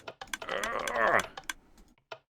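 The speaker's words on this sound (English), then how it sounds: "Typing one-handed pizza." Rapid keystrokes rattle on a computer keyboard in quick, uneven bursts, close and crisp, with a brief pause before a final tap; faint voice-like sound mixes in underneath.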